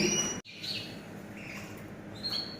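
Thin, high-pitched chirps from a blind Bengalese finch sound briefly near the start and again near the end, over a quiet room hum.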